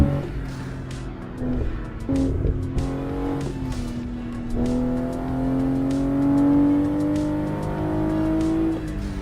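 A BMW G20 engine in the Assetto Corsa PC racing game drones and climbs steadily through long pulls, with rising revs and faint tire noise, no voices.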